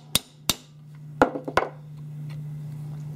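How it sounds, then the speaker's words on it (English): A screwdriver tapped with a hammer into the slot of a damaged gun screw, four sharp metallic knocks in two pairs, close and clear over a steady low hum. "What I'm going to do now is tap this screwdriver into the slot."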